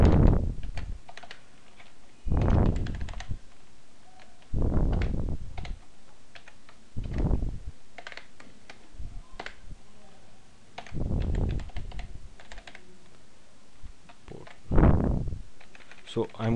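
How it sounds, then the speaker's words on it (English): A computer keyboard is typed on in bursts of close, soft key clicks separated by pauses, moderately loud, with a few heavier thumps mixed in. "I'm going to type this link here."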